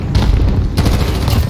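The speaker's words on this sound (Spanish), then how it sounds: "Ya, ya, cuidado que tiré una granada." A grenade goes off in Call of Duty: Modern Warfare, a loud close boom followed by a second burst and rumbling gunfire-like crackle in a short, dense blast.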